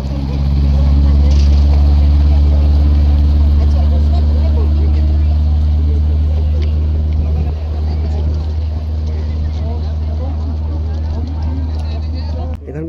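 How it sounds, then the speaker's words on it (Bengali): A ten-person motorboat passes on the water during sightseeing around Shillong, and its engine gives a steady, loud, low drone that holds throughout, with a voice talking over it. "এই দেখুন একটা 10 জনের বোট যাচ্ছে।"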